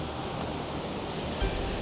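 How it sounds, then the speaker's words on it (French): A waterfall at Nikko, Japan rushes as a dense, steady roar of falling water, broad and continuous with no voices. "Et on est arrivé à la cascade."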